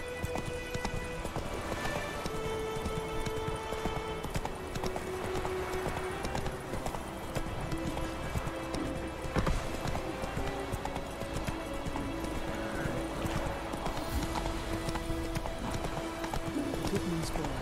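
Roach, the horse in The Witcher 3, gallops with steady, rhythmic hoofbeats running throughout, while character voices talk over the continuous clip-clop.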